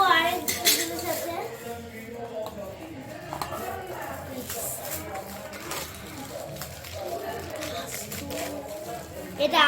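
Small toy cooking pots, pans and woks clink and rattle together in scattered light metallic knocks, with someone talking over the handling.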